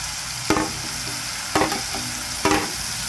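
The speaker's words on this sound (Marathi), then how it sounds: "मीडियम फ्लेमवर गॅस ठेवलेला आहे हे असं हलवून घेऊ" Reddened onion with ginger, garlic, coriander and tomato paste sizzles in a pan over a medium gas flame for liver fry, broken by three evenly spaced spatula stirs.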